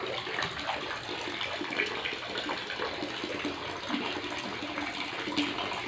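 Water gushes steadily from a DIY bucket water filter into a concrete pond, a soft, continuous splashing flow heard alone at low volume.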